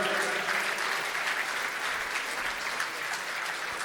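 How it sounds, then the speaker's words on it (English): Sustained, even applause from a large indoor audience at a special tribute evening in Northern Ireland, with thick, continuous clapping from many people and no speech. "Give Jim a round of applause,"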